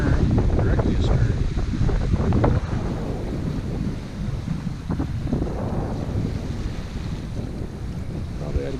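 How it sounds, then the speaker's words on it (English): Steady wind buffets the microphone aboard a sailboat on Lake Michigan, a loud, continuous low rumble with gusts that ease after the first few seconds, water washing faintly beneath. "Winds are a little fickle right now."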